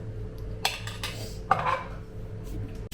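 A spoon scrapes and clinks against a dish while serving potatoes, giving three or four quiet, sharp knocks over a soft background hum.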